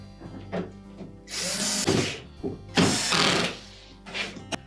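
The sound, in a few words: screws being tightened into plastic dishwasher part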